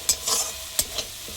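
Spice masala with Kashmiri chili powder and green chili frying in a pan for a vegetarian cauliflower kalia, with a few sharp spoon scrapes and clacks over a low sizzle.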